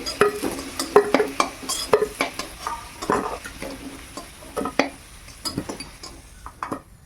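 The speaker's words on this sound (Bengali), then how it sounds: "আলুটা লাল লাল করে ভেজে নিয়েছি, এবার তুলে নেই।" Potatoes frying in a pan are lifted out with a metal utensil: repeated scrapes and clinks over a light, continuous sizzle of hot oil, close and distinct.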